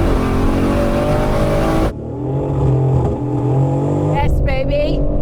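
A 700 dk fourth-generation Toyota Supra and a BMW M3 launch in a drag race, engines roaring loud and close and then dropping into a lower, steadier pull as gears change, with excited shouting over the noise.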